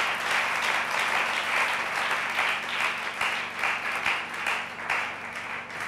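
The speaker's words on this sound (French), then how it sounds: "Quelqu'un me dit Amen et on acclame le Seigneur plus fort." A church congregation applauds and cheers for the Lord, with steady, dense clapping that fills the whole stretch at a fairly loud level and swells in waves.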